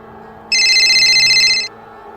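A telephone rings once as a sound effect: a single bright, buzzing trill lasting just over a second, loud and clean against a faint low background hum.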